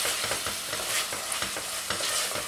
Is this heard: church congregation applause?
no